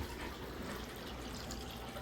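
Water flows steadily into a discus fish aquarium system, a continuous faint rushing and splashing with no talk.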